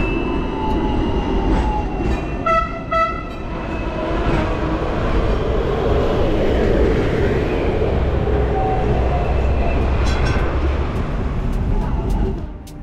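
Riding a Hong Kong tram with humid wind rushing through the open windows: a steady, loud rumble of wheels and rushing air throughout, with a few brief ringing tones early on.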